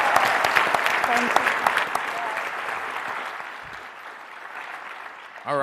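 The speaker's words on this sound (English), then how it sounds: "I'll give a round of applause to our panel" Audience applause for a university lecture panel, loud and sustained at first with some distinct individual claps and cheers, gradually tapering off before a voice begins at the very end.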